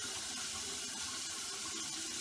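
Cold water runs steadily from a sink tap, a continuous close hiss and splash with no pauses and no voices.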